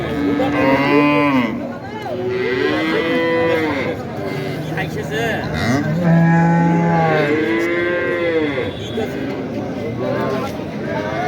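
Cattle, including dairy cows, mooing repeatedly at a busy livestock market, long loud lowing calls from several animals close by with people talking throughout.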